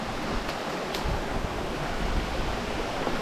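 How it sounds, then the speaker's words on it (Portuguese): A rushing waterfall at Cidade de Pedras in Itacambira, a continuous broadband roar of falling water mixed with some wind buffeting on the microphone, steady and fairly loud. "Essa cachoeira é top demais, velho."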